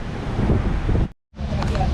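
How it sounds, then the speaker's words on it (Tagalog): Strong outdoor wind buffets a microphone in Davao City, a heavy continuous roar that cuts out briefly near the middle and then returns just as loud. "hangin kayo"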